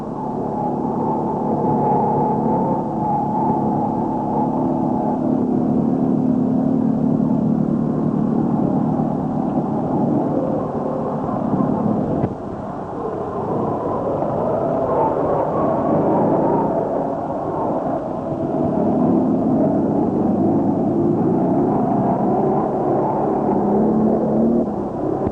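A 1962 Steyr-Puch Haflinger 700AP off-road vehicle climbs a rocky incline over 12 to 15 inch rocks, its small engine droning steadily at moderate volume with a brief dip midway, no voices.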